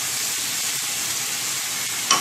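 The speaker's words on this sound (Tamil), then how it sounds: "நல்லா கொஞ்சம் வதக்கிக்கலாம்." Red rice flakes (aval) sautéing in ghee give a steady, close, even hiss of frying. No speech is heard, and a brief scrape comes near the end.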